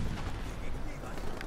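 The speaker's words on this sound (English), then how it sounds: "Why is this place getting bombed so much?" Bombing in the video game Battlefield V keeps up a dense, rumbling barrage of explosions, a continuous heavy roar with booming low end and no clear gaps.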